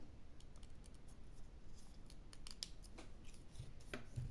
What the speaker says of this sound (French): je vais couper au ciseau